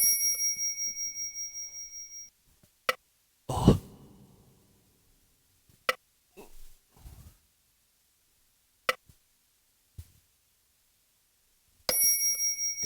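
A metronome app ticks very slowly at grave tempo, with sparse, isolated clicks spaced seconds apart. Brief chiming tones open and close the passage, and a short voice interjection is heard.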